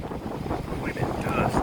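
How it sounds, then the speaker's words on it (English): Strong gusty wind buffets the microphone during a dust storm in Helena, Arkansas, a steady roaring rush that swells slightly toward the end, with a person talking faintly underneath. "Look at that wind kick."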